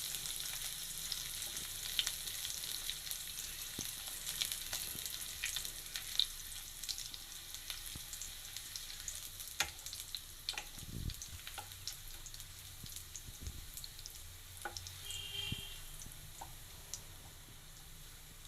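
Garlic sautéing in a pan for a raw banana stir-fry gives a steady, soft sizzle with scattered small ticks and occasional stirring scrapes, fairly quiet and with no voices.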